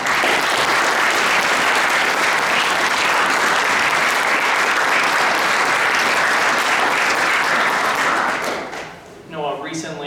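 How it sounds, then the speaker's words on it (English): Sustained audience applause at a high school boys soccer banquet, dense and loud, filling the room for about eight seconds before fading out as a voice begins speaking. "So if we could please give him a round of applause."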